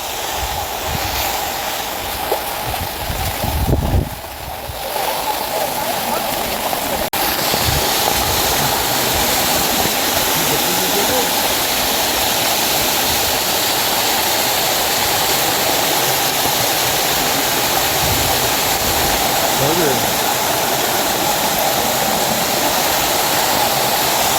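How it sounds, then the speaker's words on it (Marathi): Heavy rain and rushing water pour steadily over a hill-fort trail at Mahimatgad, Ratnagiri, with strong wind, a loud continuous roar of flowing water that fills the whole scene. "पाऊस प्रचंड आहे त्यामुळे या वाटेवरती पूर्णपणे पाणी आहे"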